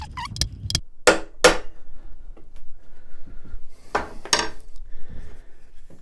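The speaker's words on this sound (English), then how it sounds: "be a bit bold with the hammer blows" Several sharp knocks of a hammer striking a chisel into pallet wood, a few spaced blows with quieter tapping between them, close by.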